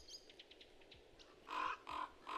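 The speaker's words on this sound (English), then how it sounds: "The ravens all shouted and dispersed" Ravens caw in an audio drama: faint bird chirps first, then three loud, harsh caws in quick succession with short gaps between them.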